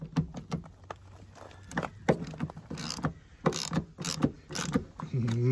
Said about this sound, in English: I bought one socket and one ratchet.